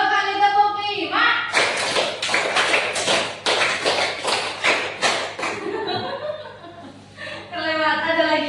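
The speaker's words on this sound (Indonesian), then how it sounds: "yuk 2 kali tepuk 5" Pupils in a classroom clap a rhythmic pattern, two claps then five, as a series of sharp, evenly spaced group claps between stretches of a teacher talking, with a little laughter.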